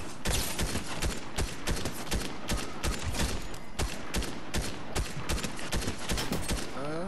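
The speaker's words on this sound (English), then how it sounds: "I'm being shot." Sustained Fortnite gunfire fills the whole stretch, a dense run of rapid, loud, close shots with no gaps.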